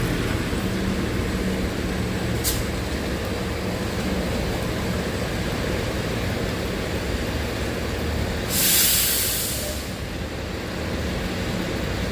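An elevated commuter train in Philadelphia rumbles steadily nearby with a constant roar of wheels on rails, a brief high squeal, and a hissing burst near the end.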